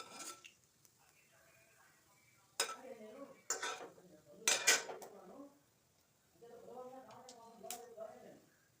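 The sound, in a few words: tempering spices in hot oil in a pan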